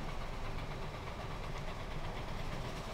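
Trains rumble along in Transport Fever as a steady, faint, distant drone of engines and rolling stock, with no voices.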